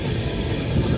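A train on the Delhi to Vijayawada run rolls along with a steady rumbling hiss, continuous wheel and carriage noise, fairly loud and unbroken for the whole moment.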